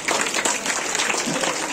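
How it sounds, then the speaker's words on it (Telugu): Steady applause from the audience at a children's dance performance, a dense continuous patter of many hands clapping, fairly loud and close, with faint voices underneath. "కే సరిత చప్పట్లు కొట్టుకుందాం."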